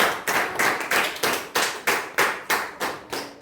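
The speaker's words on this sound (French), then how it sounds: "Acclamez le Seigneur pour ça." A church congregation claps in a steady rhythm, about ten sharp, evenly spaced hand claps that ring out loud and close, with no talking over them.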